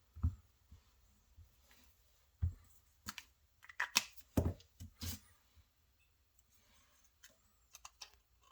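An orange filter for a modified Casio G-Shock GD350-8 is cut with scissors, giving a few quiet, close snips and clicks in short bursts with pauses between them.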